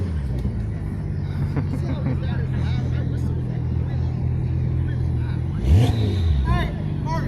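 A car fitted with an aftermarket exhaust revs briefly at an exotic car club gathering on an airstrip, a short throaty burst rising over a steady engine drone and crowd chatter.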